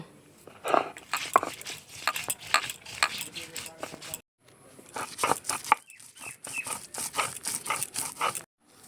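Soaked chickpea dal with green chili, ginger and salt being ground by hand on a stone slab, with close, repeated scraping and grinding strokes in irregular bursts and a short pause midway.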